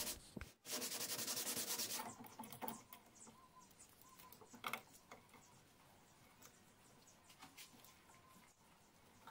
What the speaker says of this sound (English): I'm sanding each piece with 40 grit sandpaper in order to prepare it for backing.